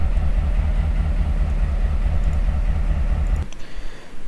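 A Missouri Pacific GP38 diesel locomotive in the Trainz railroad simulation game rumbles past with a rhythmic low engine drone and wheel clatter, loud and steady before cutting off abruptly near the end.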